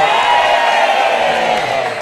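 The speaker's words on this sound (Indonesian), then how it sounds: "Tepuk tangan sekali lagi." A large television studio audience cheers and whoops loudly in a continuous roar, with applause mixed in throughout.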